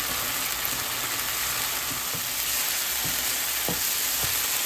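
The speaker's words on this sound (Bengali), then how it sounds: "এটাকেও আমি ভালো করে পেঁয়াজ এবং তেলের সঙ্গে মিশিয়ে নিচ্ছি এবং একটু ভেজে নিচ্ছি" Onion paste frying in oil for a pabda fish curry, a steady close sizzle with a few soft stirring scrapes and clicks, no one talking.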